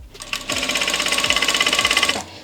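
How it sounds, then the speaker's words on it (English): A Vevor industrial sewing machine stitches at speed in one continuous burst of about two seconds, a loud, close, rapid mechanical chatter that starts and stops abruptly. "let's sew."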